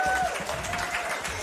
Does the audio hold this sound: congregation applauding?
yes